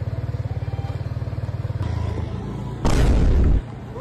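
A motorcycle engine runs close by in a Filipino street setting beside a parking attendant, with a steady rhythmic pulsing idle, then a sudden loud revving burst near the end before settling back.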